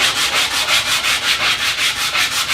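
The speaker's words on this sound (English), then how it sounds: "all I do is just a quick sanding on some 220 grit sandpaper" Steady rhythmic rubbing of 220 grit sandpaper against wooden segmented rings, rasping back and forth in quick even strokes, close and fairly loud.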